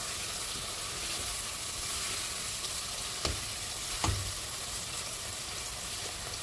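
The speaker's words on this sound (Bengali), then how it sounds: "এখন দিয়ে দিলাম রসুন বাটা, দিয়ে ভালোভাবে নাড়াচাড়া করে" Onion, spices and garlic paste fry in a pan, giving a steady, close hiss and crackle that runs throughout, with two brief knocks of the stirring spoon partway through.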